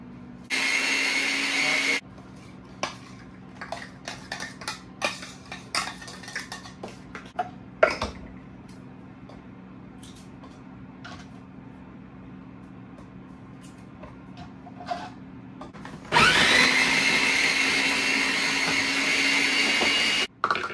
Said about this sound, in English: throw them in my food processor, y'all, so they can all be blended nice and together